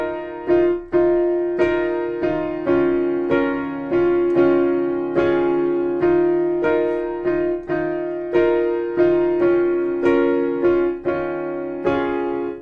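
A solo piano plays the intro of a song with steady repeated chords in an even rhythm. Each note rings clearly and close, with no voices.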